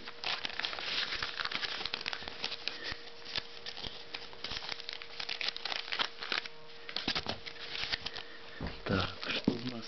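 Scissors cutting open a mailed parcel from an auction lot, with crinkling packaging, snipping and rustling handled up close, continuous and fairly quiet.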